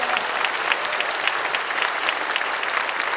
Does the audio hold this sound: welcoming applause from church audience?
yes